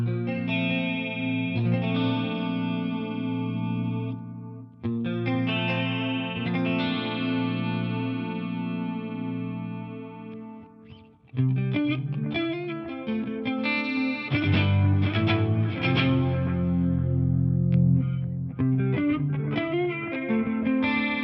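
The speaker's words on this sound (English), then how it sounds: "The lead tones of the Polymath absolutely scream." Distorted electric guitar through Bare Knuckle Polymath pickups plays sustained, singing lead notes and bends, loud and saturated, with a busier melodic run in the second half.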